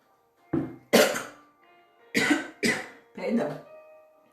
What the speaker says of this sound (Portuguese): Perdão, minhas irmãs, eu tô com uma tosse faz alguns dias já.